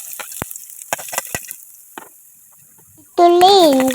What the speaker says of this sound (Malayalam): നമുക്ക് കടുക് പൊട്ടിച്ചെടുക്കാം.